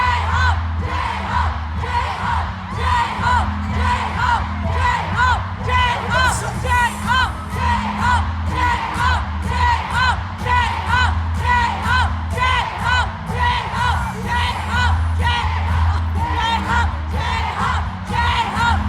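A large stadium crowd at a concert at MetLife Stadium screams and cheers for a performer, a loud, continuous roar with rhythmic chanting bursts of his name throughout.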